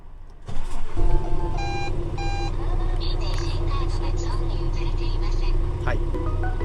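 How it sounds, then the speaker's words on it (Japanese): A 2021 Scania R410 heavy truck with 320,000 km fires up: its diesel engine cranks and catches, then settles into a steady, loud idle while a few dashboard warning chimes sound and a voice speaks briefly. "ちょっとねエンジン始動してみましょうか。"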